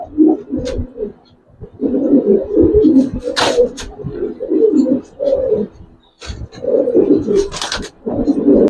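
Giribaz pigeons coo in repeated low, throaty bursts, close and fairly loud, with brief pauses between the phrases and occasional sharper noises.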